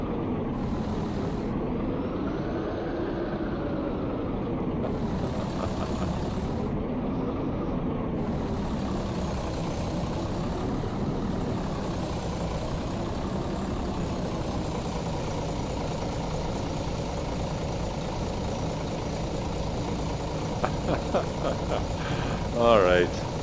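A coach engine in Euro Coach Simulator runs on a London to Manchester route with a continuous, buzzy mid-pitched drone that swells and eases in waves, and a voice talks over it.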